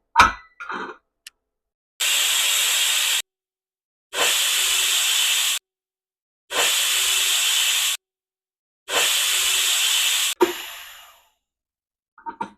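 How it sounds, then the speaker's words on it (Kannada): Pressure cooker cooking field beans, four long loud bursts of hissing steam whistle in an even rhythm separated by short silences, with a few faint clinks and a softer hiss trailing off at the end. "ಈಗ ಕುಕ್ಕರ್ ಮುಚ್ಚಳ ಮುಚ್ತಾ ಇದ್ದೀನಿ ನಾಲ್ಕು ವಿಷಲ್ ಬರಬೇಕು"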